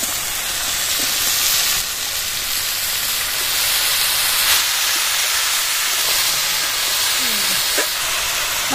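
Cut potatoes fry in hot oil in a pan, a steady loud broadband sizzle and hiss that holds throughout with only slight swells, close and alone without talk.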